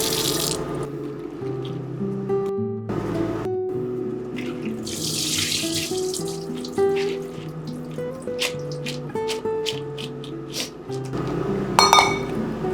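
Dried chilies rinsed under a running sink tap, a steady stream of water splashing with occasional clinks of glass or metal and light drips, close and alone, no talking.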